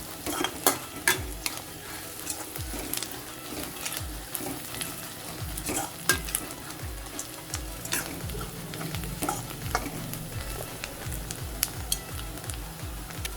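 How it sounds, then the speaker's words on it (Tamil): Steady sizzling of onions and green chilies frying in a pan for rava kichadi, with a spoon stirring and scraping at a fairly regular rhythm, close by. "வெங்காயம் பச்சை மிளகாய் நல்லா வதங்கட்டும்"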